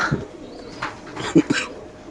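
At a racing-pigeon farm, a pigeon gives a couple of short, throaty coos close by, spaced apart over a quiet background.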